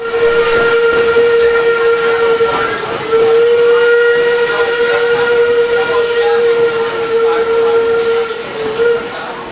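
A wood-burning steam locomotive sounds a long, loud, steady whistle with a brief break partway through, over hissing steam and the rumble of the running train.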